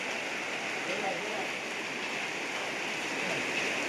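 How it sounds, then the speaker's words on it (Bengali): Heavy rain pouring down in Malaysia, a steady, dense broadband wash of water that stays loud and even throughout with no pauses. "খুব জোরে বৃষ্টি হইতেছে।"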